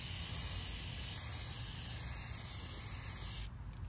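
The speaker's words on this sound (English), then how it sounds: "But I'm gonna spray paint." A spray paint can hisses steadily and loudly onto airsoft gun parts, one continuous close burst that cuts off near the end, leaving faint room noise.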